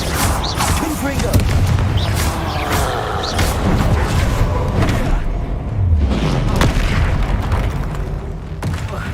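Blasting spell detonations from the Hogwarts Legacy video game: a sustained series of loud booming explosions and crackling bursts, heavy and close, running throughout with talk over them.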